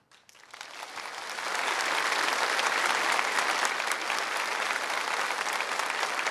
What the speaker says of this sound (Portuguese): Pode aplaudir, Deus seja louvado